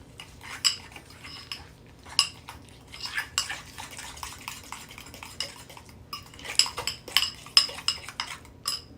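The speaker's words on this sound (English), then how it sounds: "So I'm going to stir this all up." A utensil scrapes and clinks against a bowl while a baked ham glaze is stirred, producing irregular clattering taps and scrapes up close over several seconds, with no talking.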